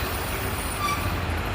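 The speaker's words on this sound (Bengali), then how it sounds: "অনেক গাড়ি, পুরা রোড জ্যাম হয়ে গেছে।" Traffic jam on a road crowded with trucks and buses, a dense, steady rumble of idling and creeping heavy vehicles with a faint high whine, close and continuous.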